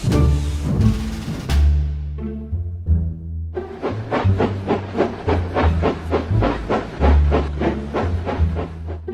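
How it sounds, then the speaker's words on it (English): Steam locomotive hissing with a long release of steam, then puffing in a steady rhythmic chuff as it pulls away, loud and close with no talk. "When he had steam up, Dudley snorted away"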